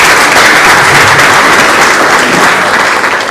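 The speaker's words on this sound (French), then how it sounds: "je compte pour vous quand même applaudir pour les réformes qui nous accompagnent toujours" An audience at an official agreement-signing event applauds in a dense, steady wash of clapping that fills the room for a few seconds before tapering slightly at the end.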